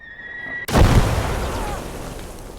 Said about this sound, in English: we're getting some mortar fire from somewhere